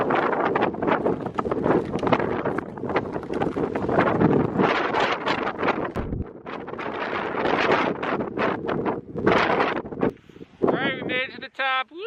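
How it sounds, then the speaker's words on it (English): Strong, gusty wind buffeting the microphone on a gray winter mountain summit in the Adirondack High Peaks, a loud, continuous roar with brief lulls, and a short voice near the end. "Now we come down and get out of the wind."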